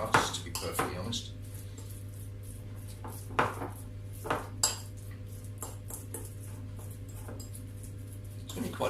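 Utensils clink and scrape against a bowl while pesto is mixed with Parmigiano cheese in a home kitchen, giving irregular sharp taps and scrapes over a steady low hum.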